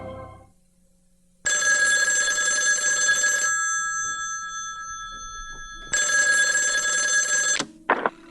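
A telephone rings twice with a loud electronic bell trill and a long silent gap between the rings. A brief beep-like tone follows at the end, just before an answering machine message.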